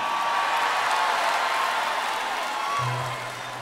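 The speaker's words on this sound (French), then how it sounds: "On applaudit très très très très fort." A big arena crowd at a concert at Bercy in 2005 roars and applauds in a dense, steady wash of noise that fades slightly near the end as a low hum enters.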